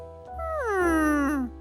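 An animated cartoon cat gives one long, clear meow that slides downward in pitch, close and alone over a low background hum.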